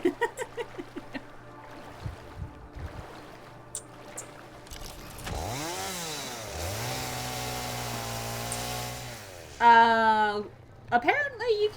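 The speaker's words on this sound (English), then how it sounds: "Apparently you can use the chainsaw in water." A chainsaw revs and drones in a video game while being used in water, rising to a sustained buzzing whine over several seconds, with voices and other game sounds around it.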